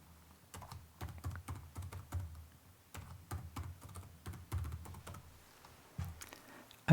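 A computer keyboard clatters with quick, light keystrokes in short bursts as a controller name is typed for a Blazor WebAssembly project, close and fairly soft, with no voices.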